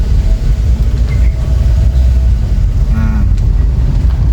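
A 2013 Kia Picanto with automatic transmission pulling away slowly inside a housing complex, heard from the cabin as a loud, steady low rumble of engine and road noise with faint rattles.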